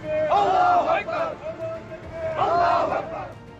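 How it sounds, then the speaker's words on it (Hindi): A marching crowd chanting Nara-e-Takbir and Allahu Akbar slogans: two loud drawn-out group shouts a couple of seconds apart, with a lone voice in between. "ये लोग नाराए तकबीर और अल्लाहू अकबर की नारेबाजी करते हुए मार्च निकाल रहे हैं।"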